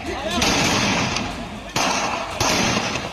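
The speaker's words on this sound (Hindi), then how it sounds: "विधायक जी के समर्थक दनादन फायरिंग शुरू कर देते हैं।" Supporters of an MLA fire licensed guns in celebration at a Vijayadashami gathering, three loud blasts each followed by a long roaring sustained burst, close and harsh, with crowd noise beneath.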